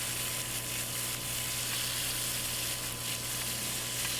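Steaks frying in browned butter in a tipped cast iron pan, a loud, continuous, close sizzle and crackle that holds steady with no talking.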